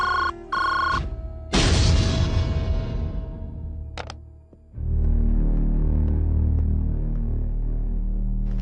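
A telephone rings in short electronic bursts, then a loud sustained tone fades and gives way to a steady buzzing hum, fairly loud and with no voices.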